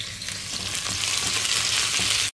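Onion sautéing in a hot pan, a loud, dense, close sizzle with faint stirring scrapes, continuous until a brief cut near the end, no talking.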